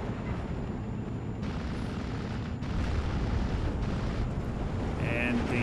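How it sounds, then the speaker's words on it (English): A Flak 88 gun fires high-explosive shells in the Steel Division 2 war game, heavy low booms and rumbling blasts rolling together continuously and loudly, with a louder stretch midway. "Flak 88 out of AP shells, firing HE"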